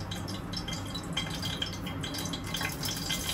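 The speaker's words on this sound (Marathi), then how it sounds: "कढीपत्ता तो उडेल ऑइल, कारण कढीपत्त्यामध्ये पाणी आहे" Steady crackling and spitting of moist curry leaves dropped into hot oil, a dense sizzle that keeps going without pause and with no voices.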